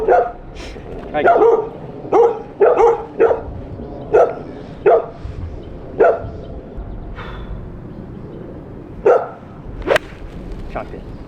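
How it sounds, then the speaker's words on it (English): Dogs barking on a golf course, a series of sharp, fairly close barks in irregular bursts, with a yip or whimper among them and low outdoor background noise. "There's dogs barking"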